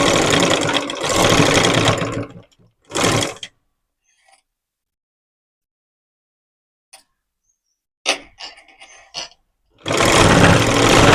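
A sewing machine runs in loud close bursts while stitching the folded shoulder seam of a petticoat, with long whirring runs at the start and end separated by short stops and a quiet pause in the middle.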